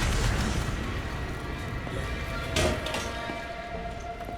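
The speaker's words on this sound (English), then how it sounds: "Explosion!" An explosion in an animated Arcane episode: a dense roaring rumble with a sharper burst partway through, loud and continuous throughout.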